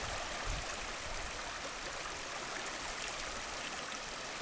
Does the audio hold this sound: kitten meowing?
no